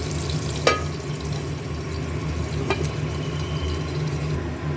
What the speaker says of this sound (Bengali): এবার গ্যাসটাকে একটু সিম করে ঢেকে দেবো, কারণ সবুজ দিকটা তো একটু সিদ্ধও হবে,